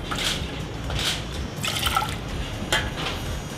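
Plain water poured over sugar in a pan to make a kumquat candying syrup, giving a steady close liquid trickle with brief brighter splashy bursts throughout.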